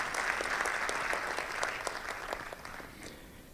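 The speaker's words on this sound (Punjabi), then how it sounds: "ਤਾੜੀਆਂ ਇਹਨਾਂ ਦੀ ਫੈਮਿਲੀ ਵਾਸਤੇ" Audience applause at a Punjabi stage play, a dense, steady clapping from a crowd that holds throughout and tapers slightly toward the end.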